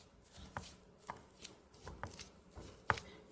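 A cooled, peeled potato is mashed for a shrimp eggroll filling, giving a handful of soft, irregular thuds and squishes spaced about half a second apart. The sounds are close and quiet, with no talking.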